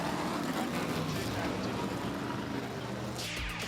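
V8-powered Formula 5000 open-wheel racing cars rolling into the pits after a race, a dense continuous engine roar with a sharp rising whine from a passing car near the end, under faint commentary.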